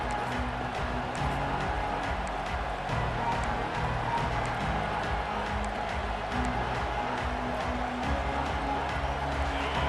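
Dense, steady stadium crowd roar in a College Football 26 video game, loud and continuous throughout with a busy hum of cheering and no clear speech.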